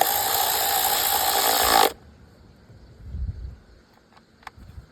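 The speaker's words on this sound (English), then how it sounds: "I'm putting one of the wiring harness bolts back in" A ratchet driving wiring harness bolts on a Kia Sorento during a valve cover gasket job: a loud, rapid burst of ratcheting for about two seconds, then quiet with a few faint metallic clicks.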